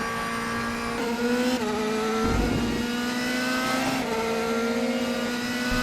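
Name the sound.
DRS whine of DTM race car in RaceRoom video game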